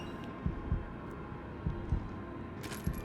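Low, muffled heartbeat thumps pulse in pairs at a steady rhythm in a video game set in Raccoon City, heard under a constant droning hum with no talking.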